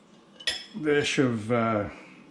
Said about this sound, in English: And then a nice dollop of mayo. Stir that all up.